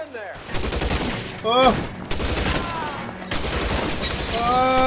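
A rapid burst of gunfire erupts during a police shootout in L.A. Noire, with loud repeated cracks and booms that continue in bursts, while a man exclaims and other voices call out between shots.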